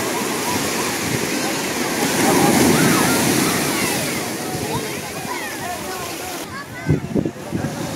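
Sea waves wash and break continuously on Poompuhar beach, a broad loud surging rush that swells and fades, with people talking nearby and a few louder splashes near the end.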